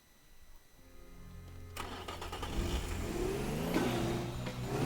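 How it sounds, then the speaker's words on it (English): A red car driven in the game Teardown, its engine starting quietly and then revving up into a loud, steady acceleration roar that builds through to the end. "I'll do one more test drive with the red car."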